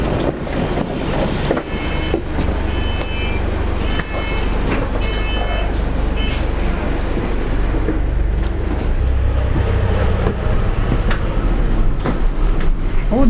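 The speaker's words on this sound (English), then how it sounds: "I'm at this bus station waiting for the first bus to come." A large vehicle rumbles steadily close by, low engine drone with brief high squeal and hiss as it pulls in and stops.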